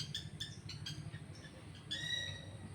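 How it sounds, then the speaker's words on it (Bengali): A bird calls outside a house in the morning, sounding a few short bright chirps over soft outdoor background hum, with a louder run of calls near the end. "পাখিটা এখনও রোজে ডাকছে।"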